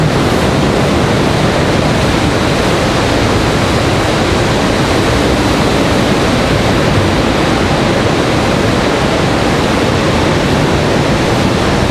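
A rainstorm at Raleigh-Durham International Airport gives a loud, dense, unbroken roar of rain and wind noise that stays constant throughout, with no voices.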